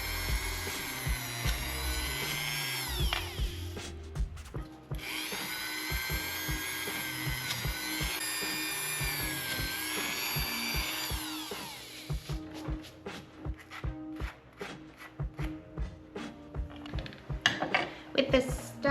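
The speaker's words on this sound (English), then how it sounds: "The next step is to Dremel some holes into our pieces." A Dremel rotary tool drills holes into small earring pieces, its high whine running in sustained bursts broken by short gaps, then giving way to a series of quick clicks and taps near the end.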